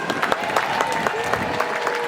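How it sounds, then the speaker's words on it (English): Audience applause at a jazz show for a performer: a run of distinct, fairly even claps over a steady crowd murmur, moderately loud. "could y'all please help me give it up for June Terry, y'all"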